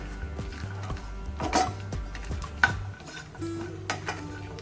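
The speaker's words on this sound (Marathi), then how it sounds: "तर आपल्याला हे खोबरं पण मस्त असं भाजून घ्यायचं आणि मंद गॅसवरच आपल्याला हे सर्व भाजून घ्यायचं आहे" Dry coconut roasting in a pan on a low flame for garlic chutney, a spoon scraping and knocking against the metal in several close strokes over a light, quiet sizzle, no speech.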